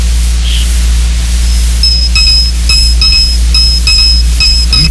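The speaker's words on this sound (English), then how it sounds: "we synthesize a series of very high frequencies" Short, very high synthesized tones from an RCA synthesizer repeat in an irregular rhythm over a low hum and soft hiss, faint and thin, with no talking.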